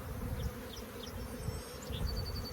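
Honeybees on a brood frame of newly hatching bees during a hive split make a dense, steady close-range buzz, with individual bees whining past now and then and no one speaking.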